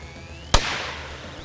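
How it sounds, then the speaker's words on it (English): A red Chinese firecracker goes off beside a Coca-Cola can in one loud, sharp bang, followed by a brief crackling decay over a quiet background. "Okay, red Chinese cracker versus Coca-Cola."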